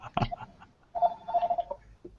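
A telephone rings in an old-fashioned interior, with a sharp click followed by a warbling ring tone that sounds twice in short bursts, close and clear, with no voices.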